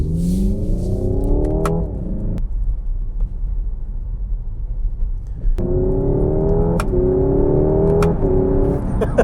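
A Hyundai Ioniq 5N performance car revs up loudly and close, its engine-like note climbing in pitch before cutting off sharply at the rev limiter. After a quieter pause it revs again and bounces against the limiter a few more times.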